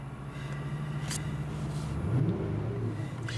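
An Infiniti FX50 engine runs with a steady low rumble and a slight rise in revs midway, heard from close by without talking.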